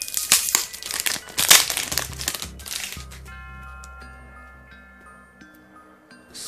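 A Star Wars card booster pack from a Leclerc edition is torn open, its foil wrapper crinkling and crackling loudly up close for a few seconds before fading to quiet background hum.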